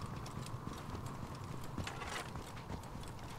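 Horses' hooves clip-clop in the video game Assassin's Creed Origins, a faint, quick, uneven patter of hoofbeats over a soft ambient bed, with no talk.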